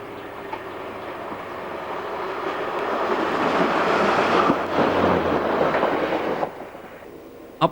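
Class 60 diesel locomotive 60045 hauls a loaded coal train from Ayr toward Eggborough Power Station on a line beside Hadrian's Wall, a steady heavy rumble of engine and wagons swelling and holding, then easing off near the end.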